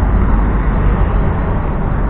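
Street traffic rumbles in a steady, broad roar with a dull low-heavy tone and no distinct vehicle passes, close and continuous with no talk.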